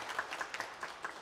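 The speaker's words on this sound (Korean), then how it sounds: "여러분 우리 김한 집사님 건강하시라고 하면 격려의 박수 한번 쳐주시죠." Encouraging applause from a church congregation during a Sunday service, a brief, fairly quiet patter of clapping with a few distinct claps standing out.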